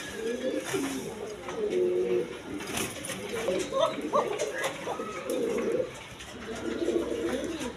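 Indian Bombay pigeons coo repeatedly in low, throaty rolling calls, close and fairly loud. The cooing continues across the whole stretch over a steady background of noise.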